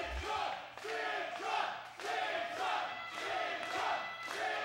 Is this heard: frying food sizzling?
no